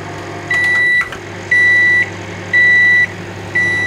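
A microwave oven set to convection mode hums steadily while four long, evenly spaced electronic beeps ring out loudly about once a second.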